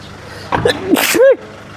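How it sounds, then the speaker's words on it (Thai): A single loud, close sneeze from a man sitting in the second-row seat of a Nissan Navara Calibre NP300 pickup, a sharp sharp intake then an explosive burst, with a brief voiced tail. "จาม"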